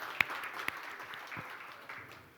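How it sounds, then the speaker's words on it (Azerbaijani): Audience at a business management panel event claps for a guest called on stage, a brief burst of applause from a room of people that swells quickly and tapers off. "Alqışlarınızla."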